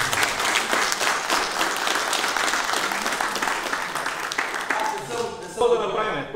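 A crowd at a public meeting in Lovech breaks into sustained applause, dense and steady at close range, thinning near the end as a voice begins speaking over the last clapping.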